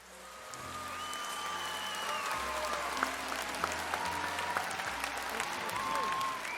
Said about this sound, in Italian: il suono della pioggia si trasforma nel rumore di un pubblico che applaude